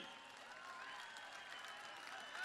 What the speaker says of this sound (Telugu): ఈ సమావేశంలో ప్రతి ఒక్కరూ గట్టిగా చప్పట్లు కొట్టి